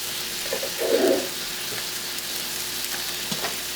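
Meatball and spaghetti sauce simmers in a pot as a low, steady bubbling and sizzle, with one brief louder burst early on and faint clicks after it.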